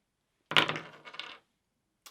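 Dice rolled for a fight in The Warlock of Firetop Mountain tabletop gamebook clatter briefly on a hard surface, a sharp burst followed by a smaller rattle, close and alone in silence.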